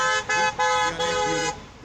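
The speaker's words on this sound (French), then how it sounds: "les automobilistes saluent les manifestants au son des klaxons" Car horns honk in a series of short and longer blasts, several overlapping, loud and close, as drivers salute protesters at a street demonstration.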